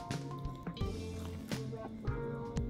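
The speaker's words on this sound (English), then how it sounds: "Water it a little bit." A chili seedling freshly pressed into soil is watered gently, giving soft trickling and dripping with light squishy taps in a close, quiet indoor setting, no talking.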